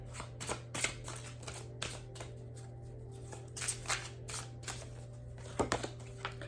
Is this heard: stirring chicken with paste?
no